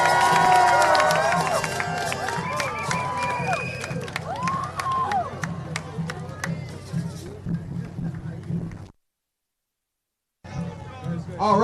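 Massive crowd of marchers at a Los Angeles protest by fire survivors, cheering and shouting loudly and continuously near and far, with whistles and voices rising over a drumbeat before a brief cutout.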